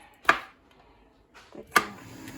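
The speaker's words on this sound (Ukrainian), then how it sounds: "Таку покришити на красиві кусочки." Two sharp knife chops through asparagus on a wooden board, spaced about a second and a half apart, with a quieter knock between them.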